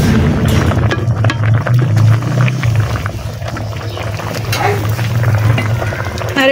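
Shing fish curry bubbling in a pot on a clay stove, a steady low simmering rumble with soft popping throughout, close and fairly loud, with faint background clatter.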